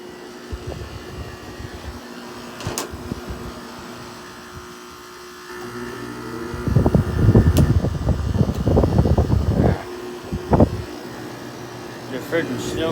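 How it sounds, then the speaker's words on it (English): A Haier 5,200 BTU window air conditioner compressor runs with a steady hum and hissing airflow that swells into a harsher, louder buzzing surge midway, heard close while a person talks over it. "that compressor sounds angry"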